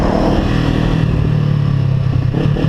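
Honda CBR500R motorcycle riding through downtown Philadelphia, its engine droning loud and close with a steady mid-pitched rumble and a slight rise in revs.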